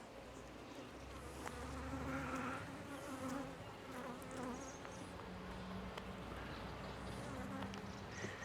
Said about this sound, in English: They're doing what bees do best.